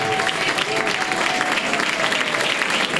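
A church congregation claps steadily and loudly together during a worship service, a continuous wash of applause with no pauses.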